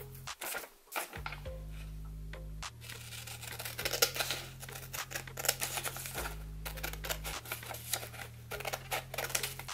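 Paper being trimmed with scissors to make an origami square, heard as a series of close, crisp snips and crinkly paper handling over a low electronic hum.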